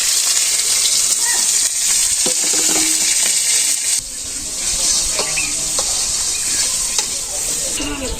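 Cumin seeds, onion and green chili fry in hot oil with a loud, continuous sizzle and hiss that stays close and steady throughout, softening slightly partway through.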